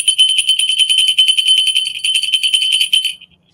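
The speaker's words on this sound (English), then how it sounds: "The softness of the bell." A small bell from a travel collection rung softly and continuously, a bright shimmering ring sustained for about three seconds before fading out, alone with no talk.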